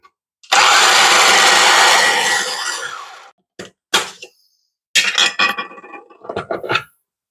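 A blender grinds basil pesto made with milk, a loud steady motor whine for about three seconds, then several short bursts of pulsing after a pause.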